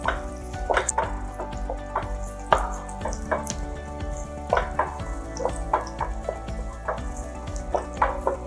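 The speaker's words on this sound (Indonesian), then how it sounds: "Ditumiskan seledrinya, kemudian ditambahkan juga tomat ya." Celery sautéing in oil in a pan, a continuous low sizzle broken by repeated light stirring clatters close by, with no speech.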